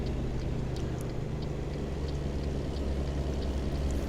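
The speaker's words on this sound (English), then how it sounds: "I like how this sounds. This is a cool sounding truck." A truck engine in the American Truck Simulator game runs with a steady, deep drone and low harmonic hum, continuous and fairly close, with no voices over it.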